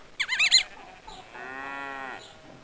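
A cartoon cow moos once in a Richard Scarry farm reading game, a short bright jingle first, then a clear sustained moo, close and alone.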